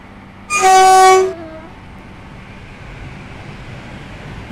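Train horn in the Roblox game Stepford County Railway: one loud, steady chord-like blast lasting about half a second, then a low rumbling hum of the train running for the rest of the clip.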